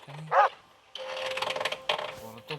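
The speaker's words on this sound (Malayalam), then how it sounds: "പുറത്ത് പട്ടിയുണ്ട്." A dog barks outside in the horror game Escape from Metel, a few short yips and barks against a quiet background, followed by a voice talking.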